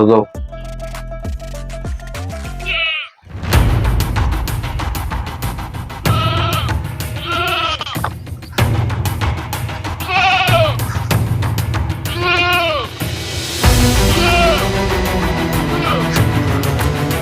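A goat bleats several times at close range in a Bangladeshi Eid setting, wavering cries repeating every second or two, with people talking and ambient noise around it.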